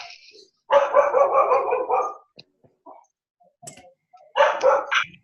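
A dog barks in two loud bursts of rapid, excited barking, a longer run at the start and another near the end, with scattered quieter sounds between them.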